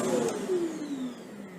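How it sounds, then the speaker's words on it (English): A Shark canister vacuum cleaner runs with a steady whine whose pitch slides slowly downward as the motor winds down, heard alone with no talking. "When you first start the vacuum, it always begins in hard floor mode."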